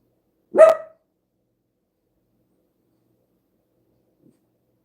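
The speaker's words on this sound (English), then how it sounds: "He's still barking." A guard dog gives a single sharp bark close by, then the room goes almost completely silent.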